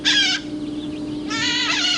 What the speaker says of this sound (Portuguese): O canto dos galos é substituído pelo som estridente destas pequenas araras verdes